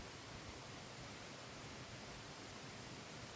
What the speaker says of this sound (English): I'm hoping that you can hear me with the creek in the background